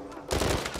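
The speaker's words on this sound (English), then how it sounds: "Guns out. And start shooting." Gunfire in the Uncharted 4 video game at Libertalia, a sudden loud burst that starts partway in and continues as dense, rattling shots under a busy game mix.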